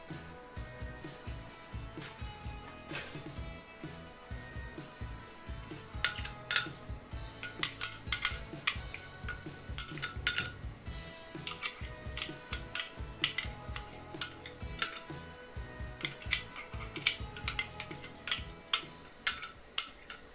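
A metal spoon stirring blended spice paste for Indonesian sardine pepes in a bowl, making steady clinks and scrapes against the bowl in an uneven rhythm, close and fairly quiet, with no talking.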